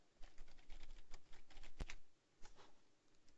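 Quick, light clicks of typing on a computer keyboard, close and soft, running in a steady patter with a brief lull near the end before a few final taps.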